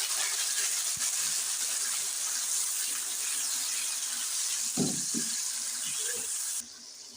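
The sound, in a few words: water being poured into cooking tomatoes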